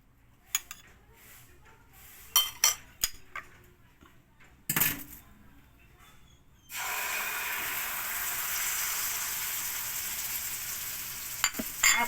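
Eggplant omelette (tortang talong) in a frying pan: a few clinks and taps of utensils, then a loud, steady sizzle of frying that starts abruptly and continues close up, with a couple more clicks near the end.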